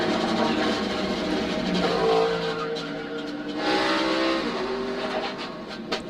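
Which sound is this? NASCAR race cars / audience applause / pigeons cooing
NASCAR race cars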